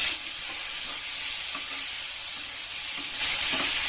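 Fried onion with two tomatoes and cumin sizzling in a pan for tomato chutney, a continuous hiss with scraping stirs that swells louder near the end, no voices.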